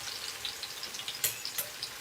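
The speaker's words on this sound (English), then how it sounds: "now we're gonna start frying the bread" Bread frying in oil in a pan for a Spanish tortilla de patatas, a steady soft sizzle and crackle with a few brighter pops, close and continuous, with no talking.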